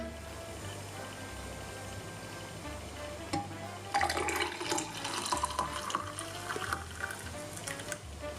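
Milk poured into a shot of espresso for a hot drink, a close liquid pour and splash starting midway and running to the end over a low background hum.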